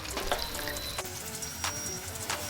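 Homemade garlic paste sautés in a pan for a seasoning recipe, a steady close sizzle with a few sharp crackles and brief scraping knocks, no voices.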